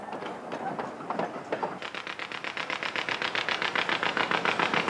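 A narrow gauge steam locomotive pulls away from the station up a steep gradient, its exhaust beats quickening into a steady, loud chuffing rhythm over the last few seconds.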